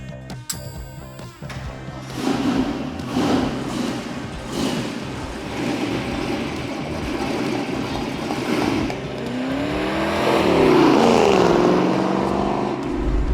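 A 1967 Ford Mustang Shelby GT500E recreation drives past with a deep V8 rumble, the engine revving and surging in pitch as it accelerates, loud and fairly close, with no talking.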